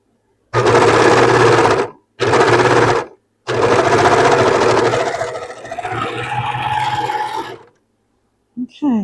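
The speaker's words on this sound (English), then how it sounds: "Just going to double stitch it." A sewing machine double stitching a dress, three loud close bursts of rapid needle chatter separated by short pauses, the last run slowing and fading near the end, with a voice faintly under the machine.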